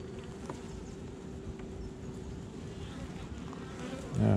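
Honey bees buzz steadily around a hive, a constant low drone close by, with a louder rustle near the end.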